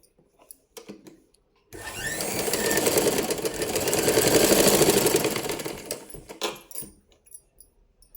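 A sewing machine runs in one sustained burst of stitching along a garment shoulder, about four seconds of steady whirring and clatter with quieter handling sounds before and after.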